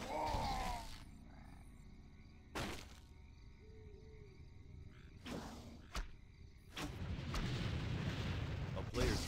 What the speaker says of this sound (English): A player's forces are under attack.